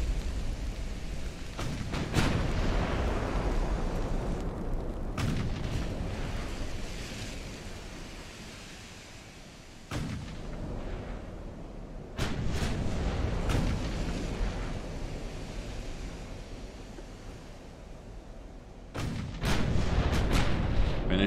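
Naval guns boom and shells strike in the Ultimate Admiral: Dreadnoughts battleship game, with several heavy blasts rising over a constant roar of sea and wind, loud and rumbling, no talking.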